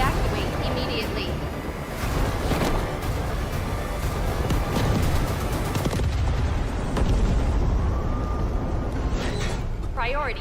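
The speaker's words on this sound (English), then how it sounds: "Hydrogen explosion at reactor 2." A reactor hydrogen explosion in a video game, a sustained, loud rumbling roar with booming, crackling bursts layered over it, and a brief tonal alarm-like whine near the end.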